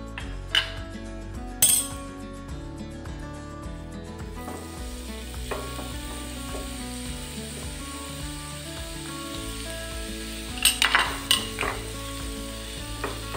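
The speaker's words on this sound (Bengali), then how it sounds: "এখন গ্রেট করা কুমড়োগুলো ভেজে নিব।" Grated pumpkin fries in hot ghee in a frying pan, hissing in a steady close sizzle broken by a few sharp clinks and scrapes of a utensil against the pan.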